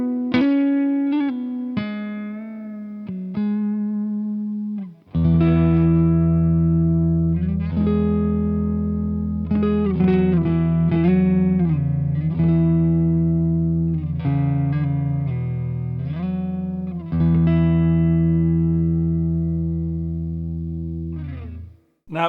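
An electric guitar plays a melodic line through an Analogwise Skyrocket germanium fuzz pedal into a Fender Deluxe Reverb amp, with thick sustained notes and a warm, saturated tone, no talking.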